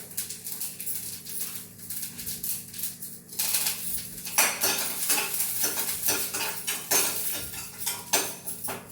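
Dried red chillies and curry leaves tempering in hot oil in a pan, a steady close sizzle with scraping and clinking of a spoon stirring against metal, louder crackling after the leaves go in.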